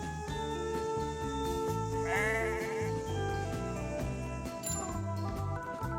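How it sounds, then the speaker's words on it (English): Sheep near Auckland, New Zealand, bleat several times, fairly close, over a steady bed of music with a faint tinkling toward the end. "these are the sheep"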